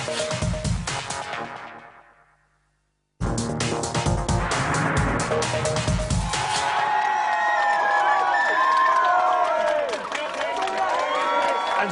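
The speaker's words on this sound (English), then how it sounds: "Whew, the crowd are raring to go. Look at them. Baying mob." Studio audience at a Big Brother UK 2004 live show roars, cheers and whoops loudly and continuously, cutting out briefly to silence before surging back in, with music and shouting layered over the crowd.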